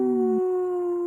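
A person imitates a wolf howl on a live radio show, one long sustained steady tone held for about a second, loud and close, with no other sounds.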